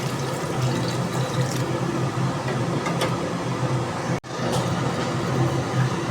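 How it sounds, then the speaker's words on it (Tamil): Tamarind water poured into a cooking pan of golden fried onions and tomatoes for a fish head curry, a steady liquid rush and splash with faint clinks, moderately loud and without talk. "கரைச்சி வச்சு புளி தண்ணியை ஊற்றணும்"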